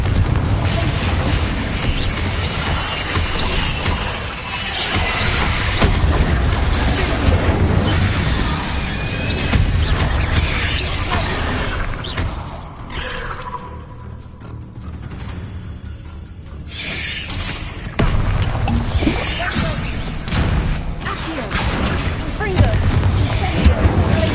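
Fiery blasting-spell explosions from the Hogwarts Legacy video game, dense booming bursts and rumbling debris filling the scene loudly and continuously, with a brief quieter gap partway through.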